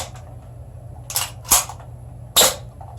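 A Wellfire G74A gas blowback airsoft gun, underpowered from a shortened stroke, fires three sharp cracks with sprays of venting gas, the second and third louder, over a low steady hum.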